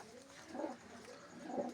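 A yellow-eyed, black-beaked pigeon coos twice in low, rolling bursts, moderately close, over quiet background noise.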